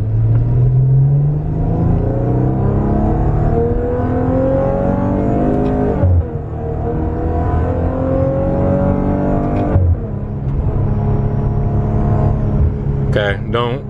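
A Maserati Ghibli pulls away and accelerates hard, its loud engine note climbing through rising revs with gear changes around six and ten seconds, then a brief clatter at the end.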